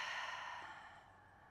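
A full exhale in a yoga mobility flow, one short, soft breath of air at low volume that tapers away.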